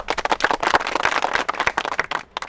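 Several people clap hands in a quick, brisk burst of overlapping claps lasting a couple of seconds, a close, lively round of applause after a multiplication table is recited.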